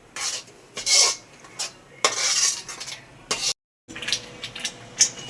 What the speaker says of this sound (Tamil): அது தள்ளி இதை நல்லா கிண்டிக்கணும்